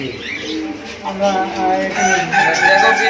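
Chickens cluck and call in a busy, noisy bird shop in Mawna, Gazipur, with people talking over them throughout.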